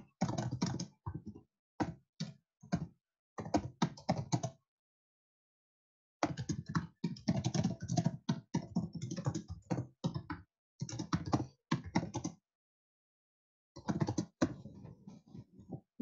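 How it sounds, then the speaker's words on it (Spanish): Someone types on a computer keyboard to write a chat message, with bursts of rapid, close clicking broken by short silent pauses. "voy a escribir por el chat"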